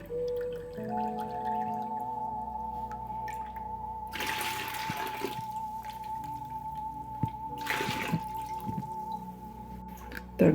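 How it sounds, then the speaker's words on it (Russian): Water drips and splashes as it drains from an orchid pot, two short bursts of trickling liquid set against a quiet indoor room with a steady low tone and occasional small taps. "Тоже сливаем воду полностью."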